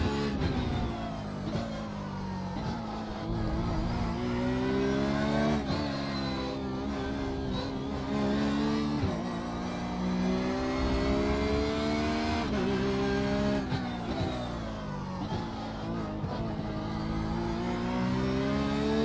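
A Porsche race car engine in the iRacing sim game holds a steady, loud drone through the whole stretch. The pitch climbs and falls as it accelerates and shifts gears, with no talk over it.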